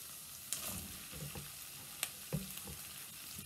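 Apple pieces and guajillo chilies fry in a hot pan with a steady sizzle, punctuated by a few sharp clatters and stirring scrapes, close and moderately loud.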